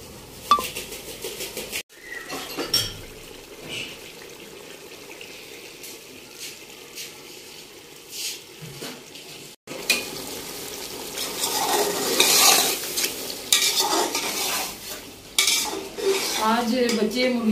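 Tomatoes, green chillies and cumin being stirred and fried in a pot for a village-style chicken biryani: metal utensil scrapes and clinks against the pot over a soft sizzle, with a brief pause before the stirring grows busier and louder.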